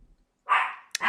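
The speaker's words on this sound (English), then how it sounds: "My puppy has a reason to bark right now because there's someone at the door." A puppy lets out a sharp bark toward someone at the door, then a short yip and a second bark, close and loud after a quiet moment.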